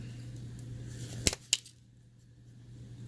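Small scissors snipping the wire ends of a spaced coil, two sharp quiet clicks in quick succession over a low steady hum in a quiet room.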